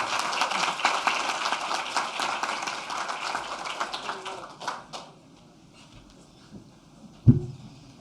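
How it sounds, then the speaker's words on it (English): Audience applause at r2con2019, a security conference, breaks out as a volunteer comes up to the front; dense clapping fills the first four seconds, then thins out into scattered claps, with a sharp thump near the end. "Great, applause."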